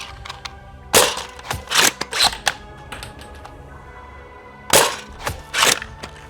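A Nerf Wrenfield bolt-action sniper blaster firing: sharp pops mixed with clacking bolt-priming mechanism noises, arriving in short close clusters separated by quieter pauses.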